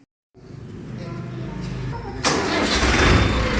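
A four-by-four tractor engine cranks and catches after a moment of silence, then settles into a loud, steady diesel rumble that swells as it revs.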